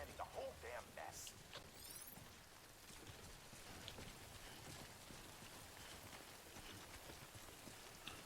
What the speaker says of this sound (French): Et la pluie en fait fait vieillir les choses plus rapidement.